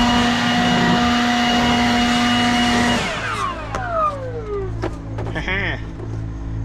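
A farm tractor engine runs steadily and loudly for about three seconds, then its note drops as it throttles down to a lower idle rumble, with brief voices and clatter over it.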